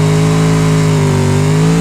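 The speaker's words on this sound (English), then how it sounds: "it sounds like an old sports car, doesn't it?" A CJD Special car engine in BeamNG.Drive revs steadily and loudly, a strong sustained tone with layered harmonics, close and continuous with no speech.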